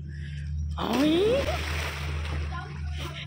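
Water sloshes and splashes loudly in a swimming pool beside a steady low engine hum, as a bike rides in on a fun motorcycle outing, with a brief rising whine over the surge.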